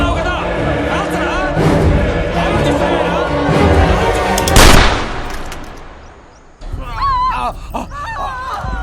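Gunfire in a violent scene from the Telugu action film Rakta Charitra, with shots and bursts mixed into loud dramatic score and shouting voices, then a brief drop before the noise resumes.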